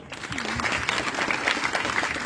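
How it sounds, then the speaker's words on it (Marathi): An audience at a memorial ceremony honouring a revered teacher claps for the teachers, a dense, steady burst of hall applause from many hands that continues evenly throughout. "शिक्षकांसाठी एकदा टाळ्या वाजवा"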